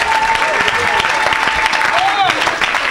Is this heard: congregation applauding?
yes